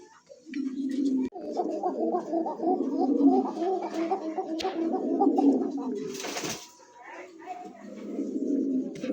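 Several pigeons of racing and fancy breeds coo continuously and close by, a dense throaty rolling sound, with brief talk mixed in.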